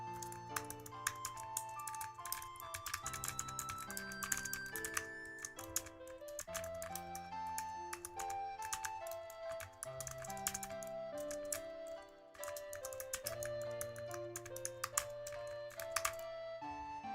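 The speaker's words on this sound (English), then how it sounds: "You can hear my PC, you can hear my typing" Computer keyboard typing at a desk, quiet irregular clicks and taps running under steady background music, with no voices.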